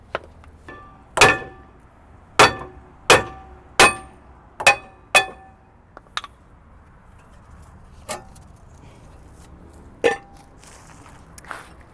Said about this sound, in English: This will allow me to hammer it out pretty easily